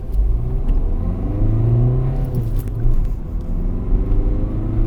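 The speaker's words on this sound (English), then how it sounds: "build up the revs, and we're off" A Ford Fiesta Mk7 engine revs up and then pulls away accelerating from 0 to 60 mph, a loud continuous rumble with rising and shifting pitch, no talking.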